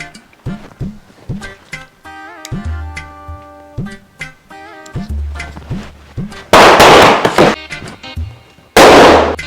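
Firecrackers bursting outdoors: a string of loud sharp pops and bangs in irregular rhythm, with two heavy booming blasts near the end, mixed with tonal whistles and music-like tones between the bursts.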